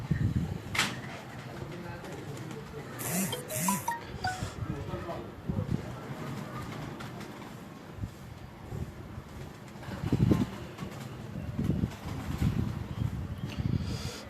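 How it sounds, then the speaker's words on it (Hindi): Low, soft pigeon coos sound here and there among pigeons at a loft, mixed with background bustle and occasional bumps. "सामने भी कबूतर हैं जी, यहाँ पे भी कबूतर हैं, हर जगह कबूतर हैं।"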